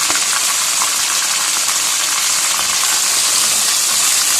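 Chicken pieces fry in hot oil with a loud, continuous, dense sizzle heard up close, and faint stirring clicks come through on top of it.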